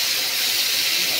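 Blended tomatoes poured into golden-brown frying onions, giving a loud, continuous hissing sizzle close up that stays steady throughout.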